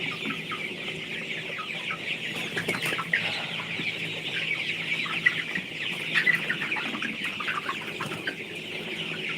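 Many chickens cluck continuously on a poultry farm, a dense close flock chorus with overlapping calls and no voices.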